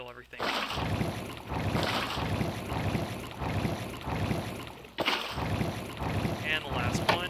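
Water buckets are emptied one after another into a shaft in Minecraft, making repeated rushing, splashing water sounds in a steady rhythm of surges, fairly close and continuous.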